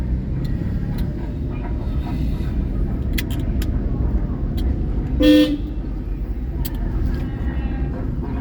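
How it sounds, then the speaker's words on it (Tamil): A single short car horn toot sounds mid-clip inside a car during a driving lesson on a road, rising briefly above steady traffic and engine rumble. "ஹார்ன் அடிக்கணுமா"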